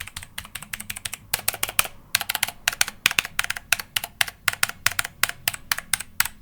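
Sharp, clicky typing on an OKER K96 mechanical keyboard with blue switches up close, keys struck in quick uneven bursts with short gaps.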